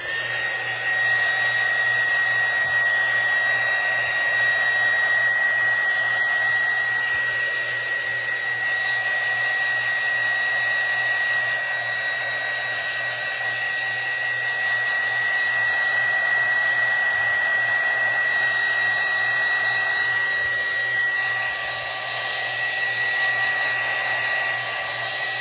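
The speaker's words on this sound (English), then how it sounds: "I apologize in advance for the noise, but I think I am gonna have to hit it just a second with the dryer" A hair dryer blows continuously with a loud, steady whirring hum and a high whine, running for the whole stretch.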